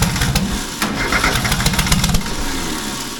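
A tractor engine cranks and starts, then settles into a loud, rough idle with throbbing low rumble and a few uneven revs through the short stretch, heard up close with no talking.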